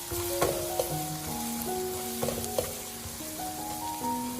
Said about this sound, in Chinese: 接下来放入辣椒，把小米辣煸炒出香辣味